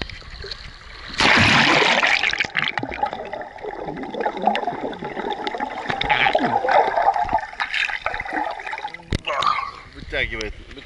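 Splashing and churning sea water as someone dives in at a Thai beach, a loud burst of splash followed by sloshing, gurgling water movement with voices talking throughout.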